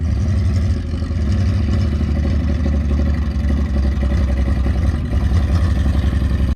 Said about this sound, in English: I think she's trying to slip shift. Yeah, that's what she's doing. Hear them RPMs and then she shifts.